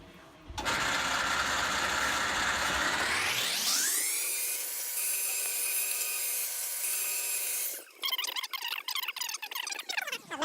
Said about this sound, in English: my 20 gauge lock former machine. It's the machine that creates the Pittsburgh Lock